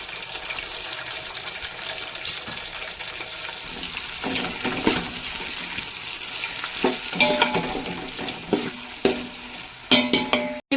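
Tomatoes fry in a pan for biryani, a continuous wet sizzle with stirring scrapes and clinks, steady and close, with a few sharper knocks near the end.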